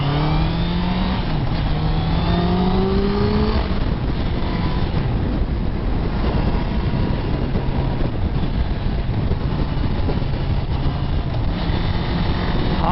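A 2018 Honda CBR650F motorcycle engine while riding, its revs rising and falling through gear changes with a steady loud drone and wind rush, close and continuous throughout.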